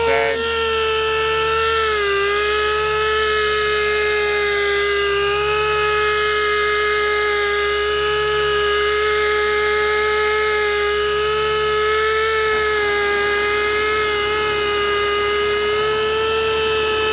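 Pneumatic polisher working the paint of a Subaru WRX, a close, continuous high-pitched whine with strong harmonics that dips slightly in pitch early on and then holds steady throughout.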